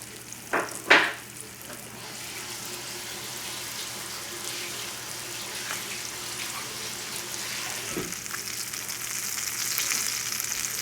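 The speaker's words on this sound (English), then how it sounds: "I'm going to brown this on this side" A flour-dredged cornish hen browns in a hot pan, giving a steady, moderate sizzle and frying crackle throughout, with a couple of brief clatters near the start.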